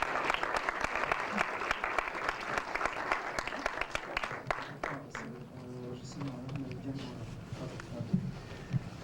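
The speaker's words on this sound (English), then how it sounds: "give his lovely Videomatica prize to a great round of applause" Applause for a prize presentation at a 1990s screening event: a sustained burst of crowd clapping, dense and loud at first, thinning into scattered claps and a faint murmur toward the end.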